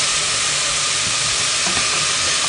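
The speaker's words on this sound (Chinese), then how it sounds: "而且也听一下，那个 声音也变了，那个洋葱 的颜色开始慢慢的变了" Onions frying in a pan for tomato salsa, a steady close hiss and sizzle that continues without a break.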